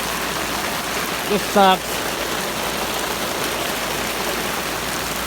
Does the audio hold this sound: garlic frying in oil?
no